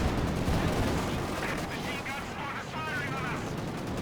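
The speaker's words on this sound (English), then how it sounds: "We see a high explosive barrage." A high-explosive artillery barrage in Company of Heroes 2 rumbles as a dense, continuous wash of booms and blasts, steady and loud throughout, with a voice talking over it.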